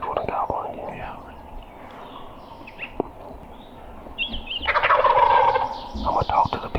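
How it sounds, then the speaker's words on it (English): A wild turkey gobbles from a distance in steep hardwood forest, one rattling burst rising midway through, with quiet whispering and rustling nearby. "There was that third one gobbling again."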